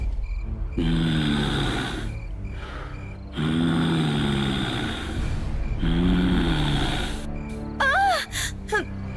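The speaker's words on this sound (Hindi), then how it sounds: "लेकिन वही सांस लेने की आवाज आने लगी।" Loud, drawn-out heavy breaths rasp in a slow rhythm, close and guttural, ending with a few sharp high squeals.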